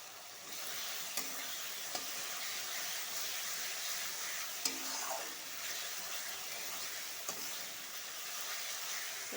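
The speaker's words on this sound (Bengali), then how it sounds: "এবার এটাকে সুন্দরভাবে কষিয়ে নেব।" Spices stir-frying in a pan for Bengali ghugni, after a little water has been added: a steady soft sizzle with occasional faint scrapes and clinks of the spoon, fairly quiet and unbroken.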